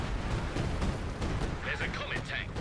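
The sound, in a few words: artillery fire in video game Company of Heroes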